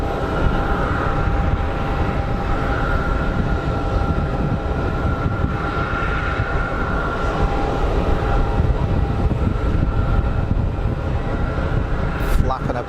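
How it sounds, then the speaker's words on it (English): A Swiss Airbus A220 at Geneva Airport, flying in a crosswind, produces a sustained, fairly loud jet rumble with a thin steady whine running through it, continuous and unbroken for the whole stretch. "the final one for today looks like a Swiss 220"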